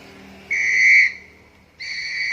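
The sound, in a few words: whistle being blown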